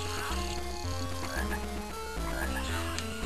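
Repeated croaks from a frog in the E.T. The Extraterrestrial Game Boy Advance game sound over looping chiptune music, a string of short blips against a busy electronic backdrop.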